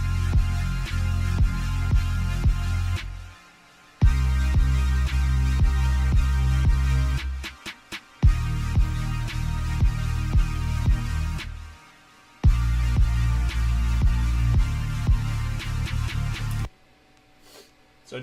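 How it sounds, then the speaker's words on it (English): A simple electronic drum beat with LFO Tool sidechain ducking plays in loud, pumping bars with heavy low kicks and ticking highs, cutting out briefly between phrases and ending in a quiet tail. "So just a nice simple drum beat"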